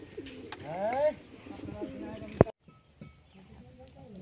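Pet pigeons coo in a loft, several soft throaty rolling coos rising and falling close by, broken by a sharp clack and quieter rustling, with a person talking over part of it.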